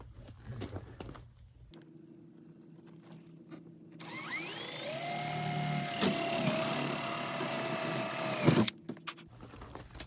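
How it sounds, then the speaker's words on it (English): A power drill bores rivet holes in the fender of a 1971 Holiday Rambler vintage camper, a close, loud whine that spins up and holds for about four seconds, with quieter handling noise before and after. "All right, so we've got 2 holes drilled."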